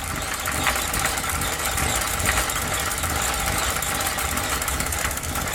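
A ROKR classical gramophone model's motor runs at a steady 33 RPM, giving a continuous, even mechanical hum and whir with faint vibration that stays constant throughout.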